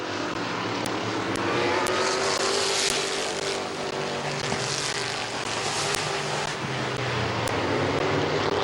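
Race cars roar around the dirt oval at Midvale Speedway, a loud continuous engine howl of several cars passing together, with sharp crackles from the exhausts throughout.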